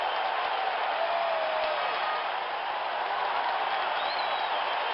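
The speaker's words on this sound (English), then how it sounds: "Just listen to that crowd" A baseball video game crowd, heard in a PC game exhibition match after a solo home run, gives a sustained, dense roar of cheering and applause. The sound stays steady and full throughout the clip, with no speech over it.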